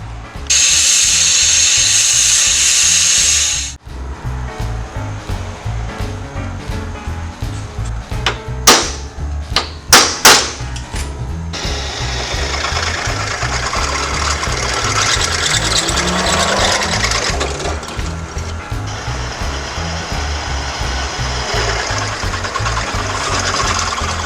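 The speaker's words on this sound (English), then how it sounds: "Okay, go grind." A grinder grinds welds off the custom shifter bracket of a wrecker truck. A loud, steady metal-on-metal roar carries on without a break, with a few sharp clanks partway through and no talking.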